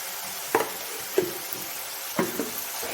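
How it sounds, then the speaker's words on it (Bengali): Shrimp fritter curry is stirred in a pan over a steady, close sizzle of frying oil, with a few soft scrapes and knocks of the spoon against the pan rising above the constant hiss. "ভালো করে নেড়ে নিচ্ছি তেল ছাড়া পর্যন্ত নেড়ে যাব"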